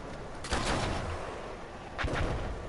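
Heavy gunfire booms from a vehicle-mounted gun in Battlefield 4, with one burst of blasts early and another pair of shots about 1.5 seconds later, each trailing into rumbling echoes.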